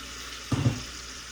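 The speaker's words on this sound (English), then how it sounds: "So I'm going to put those in my broth." Three large russet potatoes dropped into a pot of broth for Tuscan soup, a brief cluster of soft splashes and plops, close and quiet over low background hiss.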